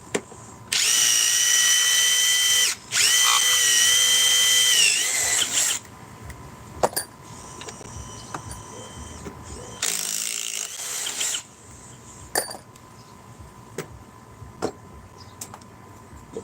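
A cordless impact wrench, compared here with an 845 model, fires in loud close bursts of rapid hammering, two long runs up front and another a few seconds later, with brief ratcheting clicks and quiet handling noise between them.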